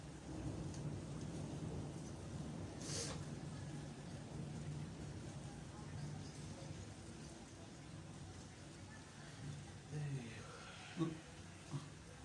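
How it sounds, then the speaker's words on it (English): Steady rain-like rumble with distant rolling thunder from a storm in Santa Ponsa, a few louder cracks near the end, and faint voices murmuring underneath. "Just lightning, you know, and thundering"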